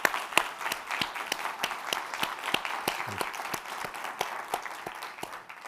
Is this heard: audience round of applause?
yes